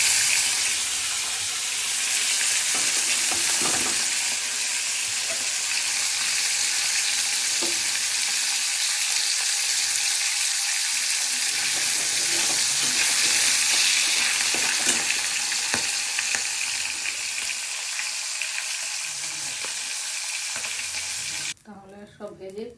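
Hilsa fish pieces coated in turmeric sizzle and crackle loudly in hot oil in a pan, a dense continuous frying hiss close up with occasional stirring and scraping, cutting off near the end.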